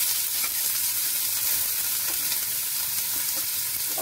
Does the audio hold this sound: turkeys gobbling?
no